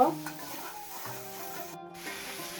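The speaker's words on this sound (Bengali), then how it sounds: "আমি দু মিনিট মশলাটা তেলের সাথে খুব ভালোভাবে ভাজা ভাজা করে নেব কষিয়ে নেব" A soft, steady scraping and sizzling as a thick spice paste is stirred and fried in oil with potato and tomato in a pan for cabbage curry, continuous and close, with no talking.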